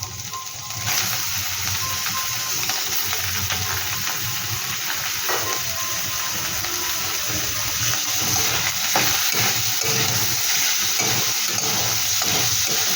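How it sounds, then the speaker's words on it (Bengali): Chicken for chicken rolls drops into a hot pan and sizzles loudly and steadily from about one second on, a dense close-up frying hiss with no talk. "এবার চিকেনটাকে আমি দিয়ে দেবো।"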